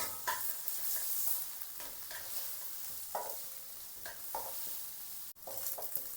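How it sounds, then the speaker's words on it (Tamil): Garlic, green chillies and curry leaves sauté in a hot pan, giving a steady close sizzle broken by regular scraping stirs of a utensil, with no talking. "எல்லாம் சேர்ந்து நல்லா வதங்கி வர அளவுக்கு வதக்கி விடுவோம்"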